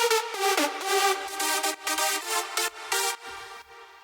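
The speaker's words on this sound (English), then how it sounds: "if we just play it with the actual drop melody like this" A bright, buzzy synth melody layered with an EDM drop lead, playing a quick rhythmic phrase of punchy staccato notes over a faint low pulse, loud and upfront without any voices.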